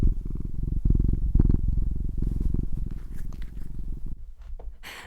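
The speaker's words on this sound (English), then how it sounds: "I am here with my cat Birthday, who is purring up a storm." A house cat named Birthday purrs loudly and close up, a rapid rhythmic rumble that pulses steadily before thinning into softer breaths and faint rustling at the end.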